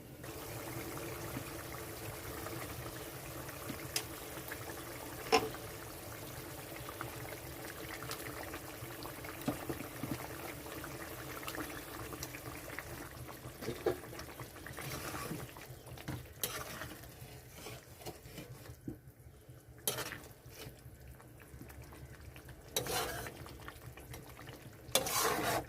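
Fried koi and magur fish going into a boiling spicy curry gravy, with steady bubbling and stirring sizzle throughout and occasional clinks and scrapes of a spoon against the pan.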